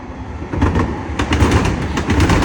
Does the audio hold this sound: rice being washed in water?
no